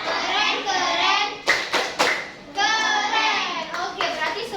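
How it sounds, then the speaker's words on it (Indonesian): Children in a classroom perform the rhythmic "tepuk keren" clapping chant. Voices chant together, punctuated by a few sharp group claps. The sound is close and lively. "Kita tepuk keren dulu yuk."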